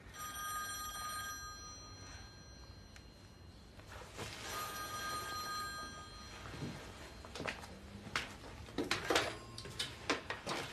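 A telephone rings repeatedly in a quiet room as a call is placed, clear electronic ring bursts recurring in steady pulses near the handset, with faint background hum and no talk.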